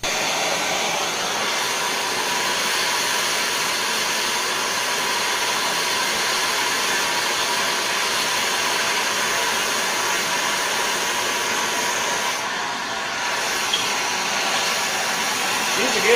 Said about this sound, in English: so, I'm going to just take the torch and heat it up.